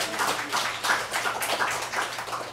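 A church congregation at a Sunday worship service applauds in thanks, a steady, diffuse patter of many hands clapping together, moderately loud and continuous without a break.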